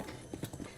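Horse hooves clip-clop briefly in Zelda: Breath of the Wild, a few quick soft footfalls, faint and close.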